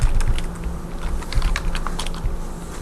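Rapid typing on a computer keyboard: close, steady clicking keystrokes in quick, uneven runs that continue without a break, with no voices.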